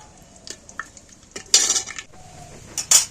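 Whole spices, including a cinnamon piece, cloves, cumin seeds and bay leaf, fry in hot oil with a soft sizzle while a metal spoon clinks and scrapes against the pan in a few sharp bursts.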